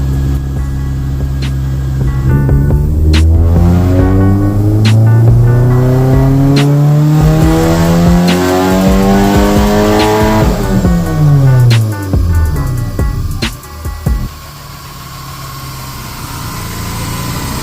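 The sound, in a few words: supercharged 9th gen Honda Civic dyno pull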